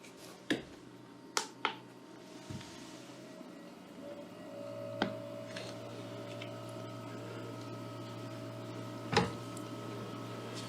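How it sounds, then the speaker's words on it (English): An ICECO TR45 12-volt portable refrigerator compressor runs on max mode, a steady low hum with a faint higher whine holding constant throughout, punctuated by a few brief clicks and taps nearby. "most of these refrigerators take up to a minute for the compressor to speed up, and this one comes right up"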